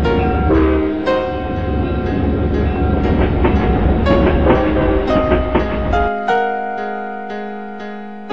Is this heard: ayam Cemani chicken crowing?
no